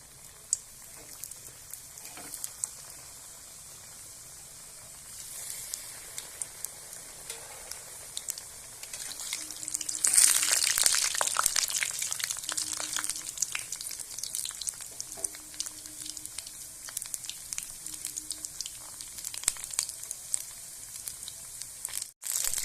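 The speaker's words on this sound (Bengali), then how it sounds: "এদিকে তেলটা বসিয়ে দিয়েছিলাম, গরম হয়ে গেছে। এবার রোলগুলো ছাড়বো।" Carrot rolls are lowered into hot oil and fry with a steady crackling sizzle that swells sharply about halfway through, then keeps bubbling and popping close by, with no talking.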